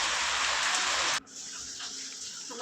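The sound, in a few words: heavy rain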